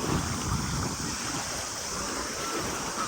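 Water at a swimming beach with warm, roughly 26-degree water and a lifeguard nearby makes a continuous broadband wash and splash, moderately loud and steady throughout.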